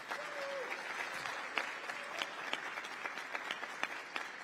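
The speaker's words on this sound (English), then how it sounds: "Big round of applause." Audience applauds after a panel at the Financial Braintrust session of ALC 2022, a steady dense patter of many hands heard from a distance, fairly soft, with a few sharper individual claps standing out.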